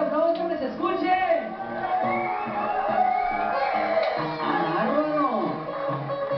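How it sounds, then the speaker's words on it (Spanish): At a baptism party in a reception hall, a crowd cheers with shouts and whoops, a lively wave of voices that swells and dips over several seconds. "de fuerte aplauso, que se escuche"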